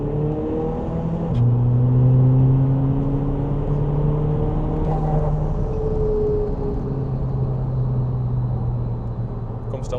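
A modified VW Scirocco 2.0 TDI with AWD, DSG gearbox and 342 bhp pulls hard in sport mode, its diesel engine note climbing through rising revs with audible gear changes, heard from inside the car, with someone talking over it.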